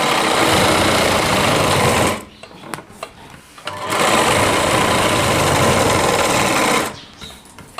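A sewing machine stitches a heavy-work Rajputi lehenga in two loud, steady runs, close up, separated by a pause with small clicks and handling noises, then stops near the end.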